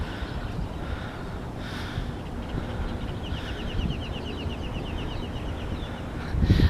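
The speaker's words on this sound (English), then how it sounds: "I just wanted y'all to hear these birds for a little bit." Morning birdsong outdoors, with scattered chirps and a short rapid trill rising faintly above a dull background rumble, no voices present.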